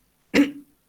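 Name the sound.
imitation of a child's cough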